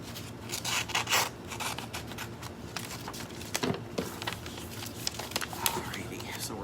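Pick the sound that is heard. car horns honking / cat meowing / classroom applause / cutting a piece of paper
cutting a piece of paper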